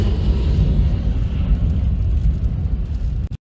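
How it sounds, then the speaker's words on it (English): A Boeing 777 aborting its landing in a storm at Itami Airport, heard as a loud, steady roar of jet engines and wind buffeting that holds for over three seconds before cutting off abruptly. "777 was trying to land at Itami Airport during a storm."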